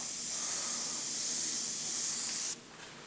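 A double action airbrush sprays paint in a steady, loud, hissing stream for about two and a half seconds, then cuts off sharply, leaving only a faint residual hiss.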